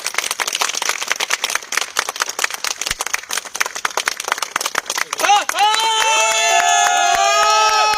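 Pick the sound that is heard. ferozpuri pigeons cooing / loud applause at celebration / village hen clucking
loud applause at celebration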